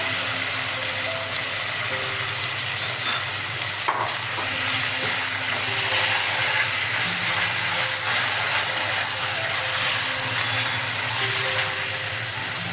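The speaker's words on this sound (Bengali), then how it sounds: "চিকেনটা 1 মিনিটের মতো ভেজেছি" Julienned chicken fries in a pan for chowmein, a steady, fairly loud sizzle that holds without a break, with no talking.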